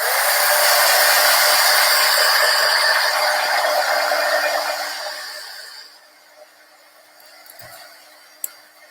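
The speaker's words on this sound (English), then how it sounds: "So I'm going to use my blow dryer." A loud, close hair dryer blows steadily with a rushing whoosh while drying fabric ink, then cuts off and fades, leaving quiet room tone and a small click.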